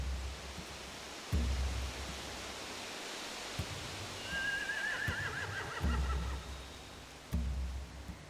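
Horses neigh in The Walking Dead game, with one clear, shrill whinny in the middle over a steady noisy background, punctuated by several dull thumps.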